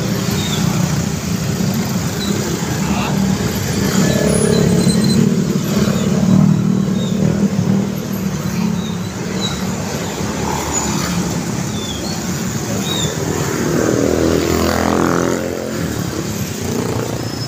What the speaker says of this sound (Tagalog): Traffic yun eh na.